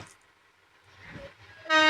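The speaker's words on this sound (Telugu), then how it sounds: "ట్రైన్ అయితే వచ్చేసింది మావా" A train pulls into a railway station; a faint low rumble builds before a short, bright horn blast sounds at the very end.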